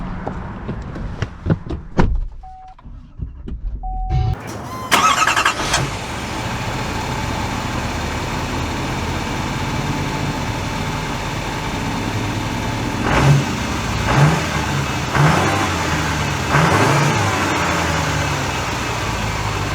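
A Chevy Silverado 3500 Duramax diesel truck cranks and fires up after a door thud, then settles into a steady, close engine hum that swells with several throttle surges as it pulls away.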